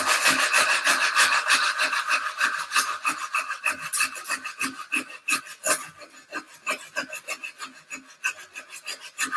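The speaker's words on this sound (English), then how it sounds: "So I'm just gently sanding this." Steady rhythmic rasping of sandpaper worked back and forth over a bamboo tube being mitred for a bike frame, close and fairly loud, with quick regular strokes throughout.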